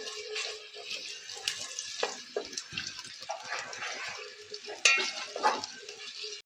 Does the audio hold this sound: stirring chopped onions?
yes